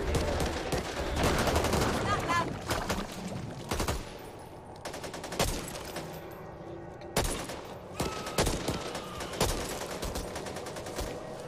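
Gunfire in the zombie shooter Back 4 Blood, with dense, loud automatic bursts early that thin into scattered single shots and short volleys against a busy backdrop of game noise.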